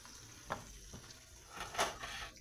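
Onions cook in a pan for ginataang tanigue, a faint, soft sizzle broken by a few brief stirring scrapes.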